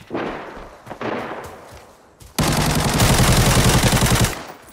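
Rapid automatic gunfire in a realistic mobile shooter game: a couple of short bursts, a pause, then a long loud continuous stream of machine-gun fire that cuts off near the end.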